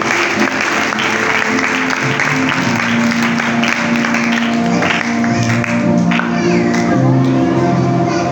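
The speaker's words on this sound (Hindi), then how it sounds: "आए अपने यीशु के लिए जोरदार ताली दें।" A church congregation at a Hindi-language worship service bursts into loud sustained applause mixed with shouts and cheering voices, a thick crowd sound running unbroken throughout.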